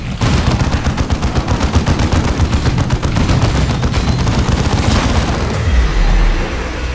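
Rapid, dense bursts of heavy weapons fire from a plasma cannon and other guns in the Dawn of War 2 strategy game, continuous and loud throughout, with a deep boom near the end.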